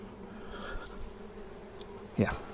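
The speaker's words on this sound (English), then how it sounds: "bees never, ever get out of the way" Honey bees buzz steadily in the background, a low droning hum, with a brief sharp knock near the end.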